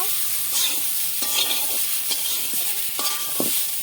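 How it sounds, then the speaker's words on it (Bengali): Papaya being stirred and fried in a pan, with a steady hiss of sizzling oil under repeated scraping strokes of a spatula against the pan, close and fairly loud, no talk. "মজানো পেঁপেগুলি দিয়ে দেবো। ভালোভাবে নেড়ে চেড়ে মিক্স করে নেব।"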